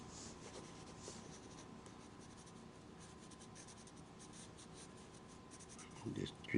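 A graphite HB pencil shades on paper in a soft, steady scratching that runs throughout, quiet and close, with a couple of brief louder bumps at the end.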